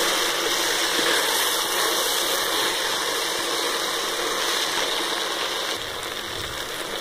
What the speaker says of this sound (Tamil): இப்போ நம்ம தண்ணி இதில் சேர்த்துக்கலாம்